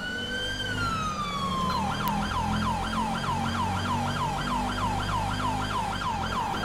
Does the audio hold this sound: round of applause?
no